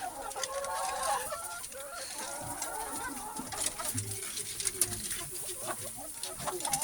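Chickens cluck and a rooster calls amid a busy, steady farmyard background, with scattered bird sounds throughout.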